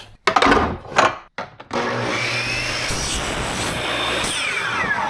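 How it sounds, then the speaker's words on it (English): PVC pipe being trimmed in a garage: a few short rough cutting strokes with gaps, then a continuous loud grinding, buzzing cut that runs steadily for several seconds up close. "we have to trim this PVC pipe"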